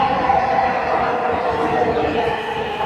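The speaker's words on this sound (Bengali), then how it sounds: "এই দেখতে পাচ্ছেন আমাদের ট্রেন চলে আসছে।" A metro train pulls into a station platform in Bangladesh, a steady loud rumble and hum filling the space, with crowd voices mixed into the noise.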